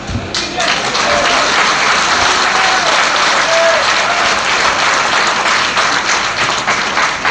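Audience at a political speech in Rewa applauding, a loud, dense and steady wash of many hands clapping that carries on throughout with no voice over it.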